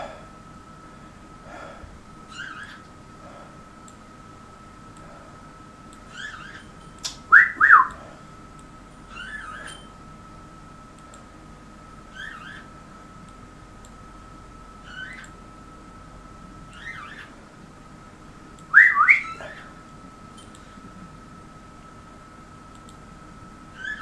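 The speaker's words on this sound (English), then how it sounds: "Can't you do that whistle properly" A person whistles in a quiet room, making thin, repeated short notes that are often breathy and half-hearted, broken by two louder bursts, with steady background hum.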